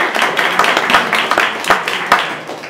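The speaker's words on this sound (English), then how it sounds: "Remember, round of applause for Peter." A live audience gives a round of applause at a livestreamed performance, a steady patter of many clapping hands, fairly close and alone.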